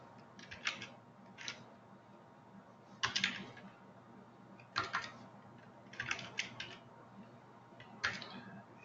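Typing on a computer keyboard during a software session, faint clusters of quick key clicks arriving in short bursts with quiet pauses between them, no voices.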